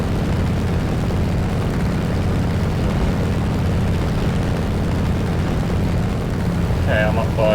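Spitfire Mk II propeller engine in War Thunder, a loud, steady, low droning roar that holds constant, with a few short electronic beeps near the end.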